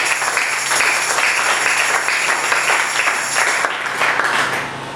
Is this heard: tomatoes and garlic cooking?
no